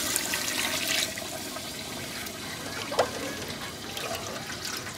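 Water poured from a bowl, one of several bowlfuls tipped in at home in Pakistan, giving a steady splashing pour with a brief sharper splash near the middle.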